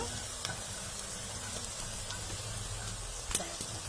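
Steady oil sizzle from a frying pan of onions as spices are added, with occasional stirring scrapes and small pops over a constant hiss.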